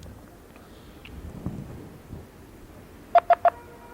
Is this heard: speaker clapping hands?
no